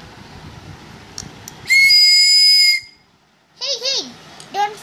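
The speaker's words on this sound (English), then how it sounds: "now I'm gonna make the whistle" A loud, steady whistle tone holds for about a second, followed by warbling, sliding whistled notes, close and clear against a quiet background.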